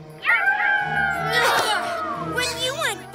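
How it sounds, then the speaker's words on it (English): A cartoon wolf howl from a toy howl simulator rises and falls in wavering, voice-like glides, loud and close, repeating in a few swooping calls over about three seconds. "you managed to throw these pesky PJs off the scent with your wolfy howl"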